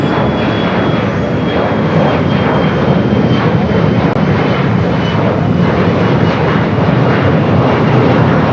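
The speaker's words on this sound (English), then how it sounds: "we got that E-Jet now rotating off at 25 right" An Embraer E-Jet airliner taking off from runway 25 right at LAX, its engines producing a loud, steady broadband roar that holds close and constant throughout with no voices.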